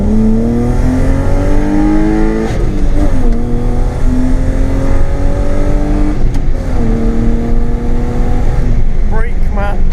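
A BMW E36 with a swapped 2.8 M52 straight-six and straight-pipe exhaust pulls hard in second gear, its loud raspy engine note climbing in pitch through repeated rising sweeps with brief dips, while people talk over it.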